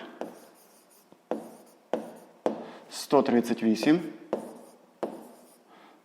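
Pen writing in a notebook during a sixth-grade maths lesson, short scratchy strokes in separate bursts, close and fairly quiet, with a voice speaking briefly partway through.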